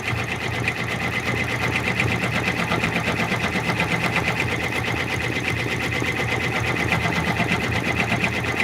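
An embroidery machine stitches a back stitch in the hoop for a stuffed raccoon toy, its needle hammering in a fast, even mechanical rhythm, loud and close without pause.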